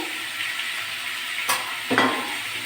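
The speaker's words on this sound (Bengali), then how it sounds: "একটু 3-4 মিনিট একটু তরকারিগুলো ওই পেঁয়াজের মধ্যে ভাজবো।" Fried vegetables are stirred into onions frying in a pan with green chili, a close steady sizzle broken by a sharp spatula scrape and a metal clink, with no talking.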